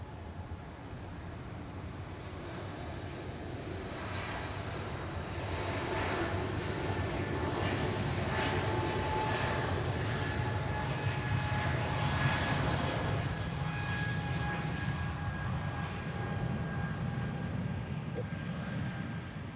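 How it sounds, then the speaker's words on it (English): A Bulgaria Air airliner takes off from runway 28 at Zurich, its engine roar building over several seconds into a loud, steady broadband rumble that holds and then slowly eases. "Runway 28, cleared for takeoff, Bulgaria 492."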